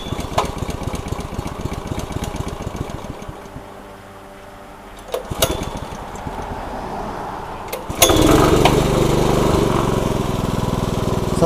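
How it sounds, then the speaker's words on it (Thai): A used small petrol water pump engine starts with a pull, sputters at a choppy idle, dips, catches again and then revs up into a loud, steady roar, close by. "อ่ะลองสตาร์ทดู เปิดสวิตช์เปิดน้ำมันดึง โชคสตาร์ทได้เลยนะครับ"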